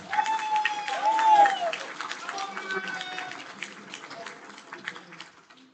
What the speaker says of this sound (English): So everybody please give Heathen a round of applause.